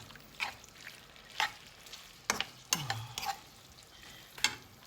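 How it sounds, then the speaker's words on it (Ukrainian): A spoon stirs macaroni and cream in a pan, giving several short scraping, clinking strokes with a soft sizzle underneath, close and moderately loud, with no talking. "Розмішуємо наші макарони з вершками."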